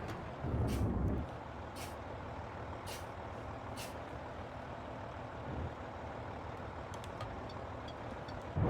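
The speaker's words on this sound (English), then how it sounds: "The truck drives hella nice" A heavy truck engine in a video game rumbles steadily, with sharp hissing bursts like air brakes repeating at intervals over the drone.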